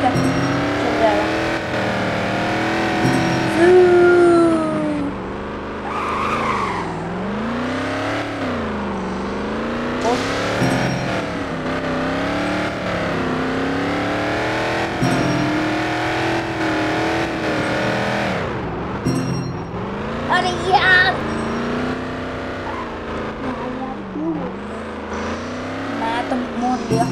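A car engine in the Car Empire video game revs and surges up and down while the car drives off-road. It is loud and continuous, with people talking over it.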